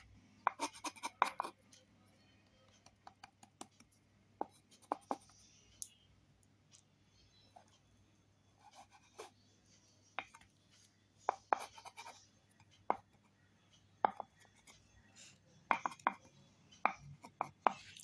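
A knife cuts through coconut pitha with scattered, faint, sharp clicks and scrapes against a board, coming in irregular bursts over a quiet background, without speech.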